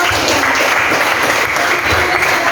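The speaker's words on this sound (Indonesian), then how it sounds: "tepuk tangan dulu" Classroom applause in an Indonesian lesson on measurement, a short burst of loud, dense clapping from students nearby.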